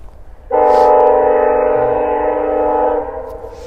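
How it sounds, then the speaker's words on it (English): A train passes in the background near a half-acre vegetable garden in mid June, a steady loud rumble with a horn-like tonal drone that swells in, holds for about two and a half seconds, then fades. "There is a train going in the background."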